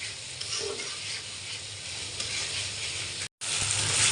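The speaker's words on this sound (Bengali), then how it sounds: "এই যে আলুটা কষাচ্ছি ভালো করে কষায় নিতে হবে" Potatoes with spices being sautéed in a pan for a potato and egg curry, giving a continuous near sizzle with stirring scrapes and a brief dropout near the end.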